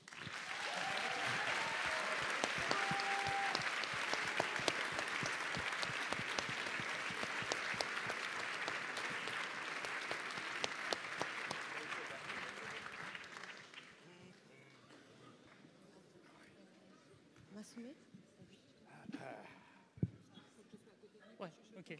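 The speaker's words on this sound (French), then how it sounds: "Et nous vous prions d'applaudir aussi sa compagne et productrice qui l'a accompagnée jusqu'ici, Sandy King." An audience bursts into dense, loud applause that holds for about thirteen seconds and then fades to scattered claps and room noise, with a voice speaking near the end.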